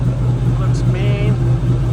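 A supercharged 2013 Ford Shelby GT500 with a 6-speed manual rumbles at a steady idle close by, a deep continuous drone with a brief whine and faint chirp rising over it.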